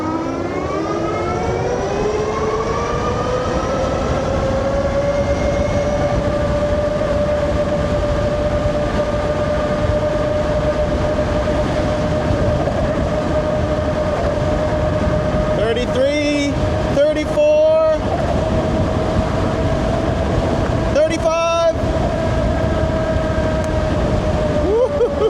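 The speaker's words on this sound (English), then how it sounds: "Let's see how fast it goes downhill." A Euybike S4 Pro dual-motor 3000 W e-bike speeds downhill, its motor whine rising steadily in pitch over heavy continuous wind rush, with a few brief rattling bursts near the end.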